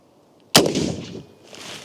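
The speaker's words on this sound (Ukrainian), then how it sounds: "зараз будемо тестувати російську плиту зі снайперської гвинтівки" A single sharp sniper rifle shot fired at a Russian armor plate from 20 meters cracks loudly after a quiet moment, followed by a brief ringing decay and a faint echo.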